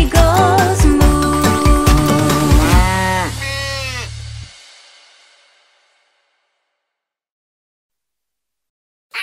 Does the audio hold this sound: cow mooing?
yes